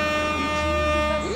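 A loaded Mercedes-Benz 1620 truck sounds its horn in one sustained, loud, multi-tone blast with a steady engine drone beneath.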